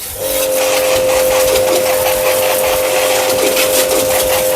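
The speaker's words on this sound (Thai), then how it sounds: "เอาสายยางที่แถมให้เนี่ยใส่ถังแล้วก็ดูดน้ำขึ้นมาฉีดได้เลย" A Bonchi HW2300 pressure washer drawing water from a tank sprays with a loud, steady hiss and a constant high motor whine, close and continuous throughout.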